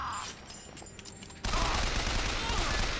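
Sustained burst of gunfire in Bioshock Infinite on 1999 Mode, a loud dense fusillade that starts abruptly halfway through after a quieter stretch of game noise.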